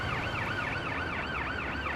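An ambulance siren from the Ambulance Life video game wails steadily in a rising and falling yelp, loud and continuous over a low rumbling engine bed, with no voices.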